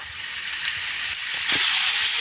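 Vegetables fry in a pan for a vegetable rolling bites recipe, a steady loud hissing sizzle that swells slightly toward the end, with no voices.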